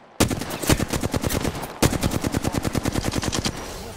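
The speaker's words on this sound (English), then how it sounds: "Shots fired at me." Rapid automatic gunfire from the Apex Legends battle royale game: two long bursts of evenly spaced shots, loud and close, with a brief break between them and no talking.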